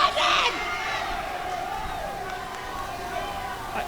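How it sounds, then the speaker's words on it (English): High school wrestling crowd at a Lowell vs Chelmsford dual meet, a loud burst of shouting and cheering at the start that settles into a steady, distant roar of voices. "And the crowd is getting hyped."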